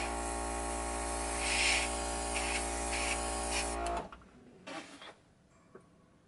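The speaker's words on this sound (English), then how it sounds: "I just try not to breathe when the airbrush is going" An airbrush spraying paint onto an OO gauge model church scene gives a steady close hiss over a low hum for about four seconds, then cuts off, leaving a few faint clicks and handling noises.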